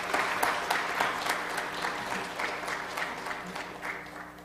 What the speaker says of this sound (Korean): 감사 및 큰 격려 박수 다 같이 한번 보내시면 감사하겠습니다